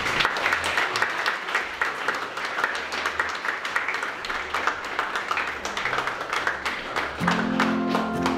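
Loud, dense applause from a crowd fills a festive 50th wedding anniversary party, continuous and close, with a faint tonal hum rising near the end.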